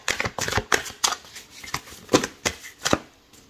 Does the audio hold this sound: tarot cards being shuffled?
yes